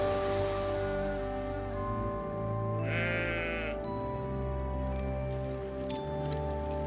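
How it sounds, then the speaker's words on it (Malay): A sheep gives one clear, wavering bleat in the middle, over a sustained background of music and ambient tones. "Lalu Ibrahim ngimak biri-biri ngan tanduknya sangkut ke beluka."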